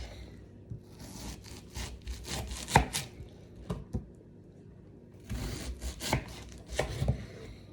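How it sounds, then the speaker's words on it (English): A knife cutting onion at an angle on a board: a run of soft, uneven chopping strokes, close and fairly quiet, with one sharper cut and a brief pause mid-way. "So try to cut your onions at an angle."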